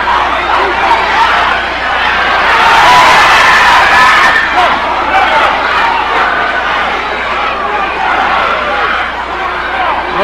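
A loud, dense arena crowd roars and cheers at a Stampede Wrestling match, with yelling and whoops blending into a continuous wall of noise that swells around the middle and stays strong to the end.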